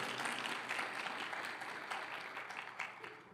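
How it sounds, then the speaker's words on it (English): An audience at an awards luncheon applauds in a soft, continuous patter of many hands, faint and somewhat distant, fading slightly toward the end. "let's give a round of applause to our co-chairs, Nakia Bell and Councilwoman Robinson"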